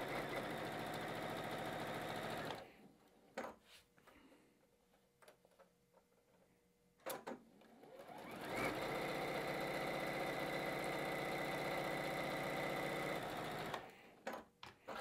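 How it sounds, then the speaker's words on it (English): A Juki sewing machine stitching quilt seams runs in fast, even bursts, stopping for a few seconds of quiet handling in the middle before starting again, close and clear with no talking. "I've got this awesome new Juki sewing machine"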